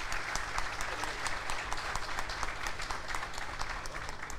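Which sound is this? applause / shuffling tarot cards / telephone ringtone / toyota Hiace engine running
applause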